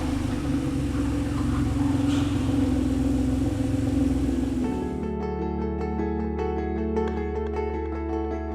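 An Acura NSX runs steadily nearby with a continuous engine drone and mechanical clatter, its tone shifting partway through as it moves into a workshop.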